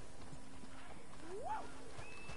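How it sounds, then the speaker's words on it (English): Breton horse hooves clip-clopping steadily in Red Dead Online, soft and fairly distant under background ambience with a brief rising whistle-like tone. "I'm with my other horse today"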